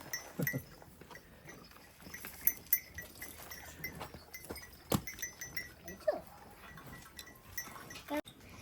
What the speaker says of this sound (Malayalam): എല്ലാ പശുവിൻ്റെ പേരറിയല്ലേ ഒന്ന് പറഞ്ഞു പോയിക്കേ ഇത് താര കാങ്കയം കാങ്കയം